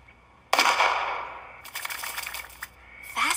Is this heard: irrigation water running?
no